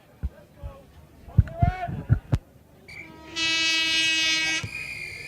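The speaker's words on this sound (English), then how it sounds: "We're going to hear the hooter any second now." At a rugby league nines semi-final, a loud, sustained half-time hooter sounds for over a second at the end, after scattered crowd noise and short bursts of sound.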